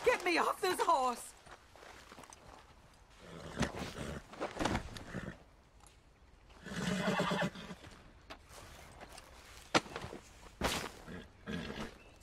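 A horse neighs loudly and close, with a wavering whinny in the open country of Red Dead Redemption 2. Brief hoof and footstep sounds and some voice sounds follow.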